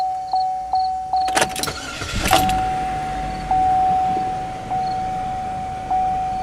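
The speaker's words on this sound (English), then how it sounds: "Going to start the car right now." A Chevrolet HHR running on hydrogen and oxygen gas cranks and fires, its engine catching after a brief burst and settling into a steady idle, with a few short electronic chimes repeating before and after.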